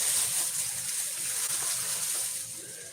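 Tap water runs steadily while squid are washed at a kitchen sink, a close, even gushing stream with faint splashes and no talk.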